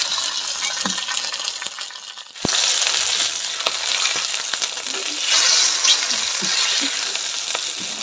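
Bajji fritters frying in hot oil at a Tamil village cookout, a steady loud sizzle with a sharp clatter partway through and small bubbling crackles throughout.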